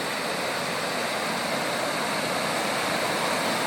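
Water pours over a spillway in a loud, steady broadband rush, close and continuous with no breaks and no talking.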